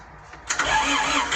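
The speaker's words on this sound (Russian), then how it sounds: "Давайте запустим двигатель." An Iseki TK46 46-horsepower diesel tractor with a cab cranks briefly and catches within half a second, settling into a steady close-up running clatter.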